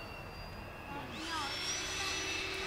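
Jet airplanes passing overhead above Flaming Geyser State Park along the Green River in Washington, a rising whine and roar growing louder midway, heard from a distance outdoors.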